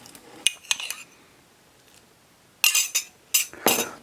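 Spoon scraping and clinking in a bowl of chocolate avocado cake batter with milk added, several short bright clatters in two bursts separated by a quiet pause, close and fairly loud, no talking.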